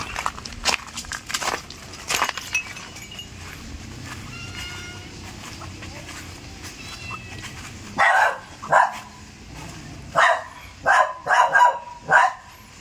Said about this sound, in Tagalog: May bantay na aso